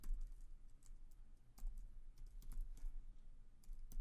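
Typing code on a computer keyboard, a quiet, steady run of soft key clicks with a few sharper taps, close and alone without talk.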